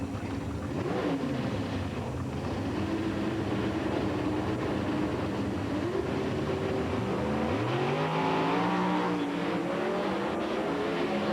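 Two Oldsmobile drag cars in NHRA Competition Eliminator racing at Houston in 1997, a loud sustained engine roar with rising revs, heard from a distance with steady crowd-level background.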